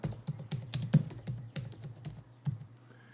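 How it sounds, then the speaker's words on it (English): Rapid typing on a computer keyboard, a close, clattering run of key clicks in an uneven rhythm, alone without any voice. "apologies for my keyboard"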